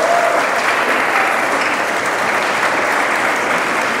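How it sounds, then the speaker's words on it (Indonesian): Steady, sustained applause from an audience for the jury at a church competition grand final, full-room clapping that holds evenly throughout without anyone speaking. "Bapak Ibu tepuk tangan untuk Dewan Juri."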